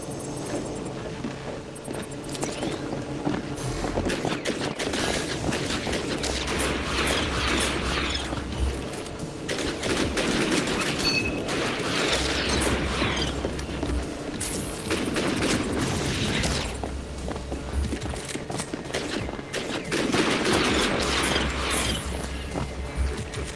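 Sci-fi weapon fire in the VR shooter Rogue Ascent VR, with repeated bursts of booming, mechanical shots in clusters and a low throbbing hum between them, loud and dense across the whole stretch.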